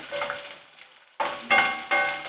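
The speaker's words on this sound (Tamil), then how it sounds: "ரொம்பலாம் வதங்கினாலும் கிடையாது கொஞ்சமாக வதங்கினாலே போதும் லைட்டாக அந்த கலர் மாறினா போதும்" Ingredients for Mappillai Samba rice idli sauté in a pan over low heat, a soft continuous sizzle broken by three louder bursts as the contents are stirred, with no talking.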